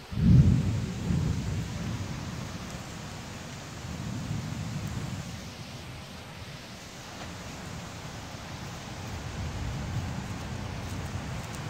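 Thunder rolls in the distance, a loud low boom at the start fading into a long rumbling tail that swells again later, with a soft wash of rain or wind beneath and no voices.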